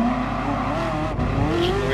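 A Ferrari F40 engine in the video game GT Sport drones steadily at high revs, its pitch climbing slightly near the end, with a faint squeal of tires.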